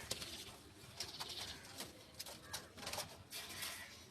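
Pigeons newly brought home and released coo softly amid a busy background of fluttering and rustling, with scattered bird calls layered over a constant noisy hiss.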